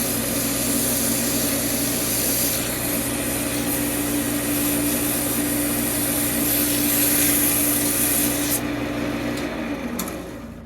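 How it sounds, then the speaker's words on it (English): Sanding the end of a forged railroad spike being shaped into a tomahawk: a steady, loud abrasive whir runs continuously for about ten seconds, then tapers off near the end. "I want to go ahead and sand the end as the best we can."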